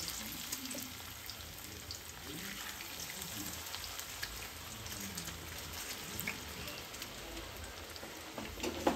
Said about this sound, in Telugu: మిగతా ఫిష్ కూడా సేమ్ ఇలాగే ఫ్రై చేసుకోవాలండి.